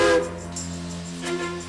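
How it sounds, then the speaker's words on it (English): A steam locomotive on the Durango and Silverton Narrow Gauge Railroad sounds its whistle, a loud, sustained chord-like tone that swells, dips, then rises again before fading, close and alone. "The engineer gives 2 blasts of the whistle."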